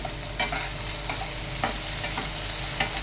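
Onions, spring onions, garlic, ginger and green chillies sautéing in a pan for chilli paneer, a steady close sizzle with repeated light stirring scrapes and soft clicks throughout.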